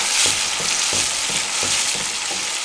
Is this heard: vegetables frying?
yes